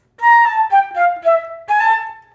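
Solo flute plays a short phrase that includes a grace note: five or six clear, connected notes in a steady stepwise line, close and fairly loud, with no other sound around them.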